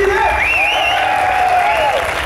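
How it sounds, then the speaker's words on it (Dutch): A festival crowd at Festylan applauds a performer, a steady wash of clapping with a voice calling out over it throughout. "Applaus voor Joris van Eerden!"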